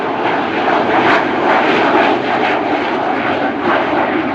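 An Avro Vulcan XH558 delta-wing bomber flies past at the Farnborough Air Show in 2014 with a loud, continuous engine roar that fills the whole stretch without a pause and with no voices.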